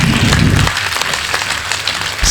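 Audience applause at a Hindi poetry recitation, a dense, steady wash of many hands clapping, fairly loud and continuous with no voices over it.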